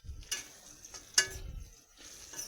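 A spoon stirs turmeric into olive pickle in a pan, giving a few sparse, faint scraping strokes with quiet gaps between them.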